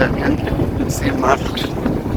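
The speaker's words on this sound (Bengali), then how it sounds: "চারদিকে সেই বাতাস" Afternoon wind blows outdoors on a hilltop bike outing, a loud steady rush buffeting the microphone while a person talks over it.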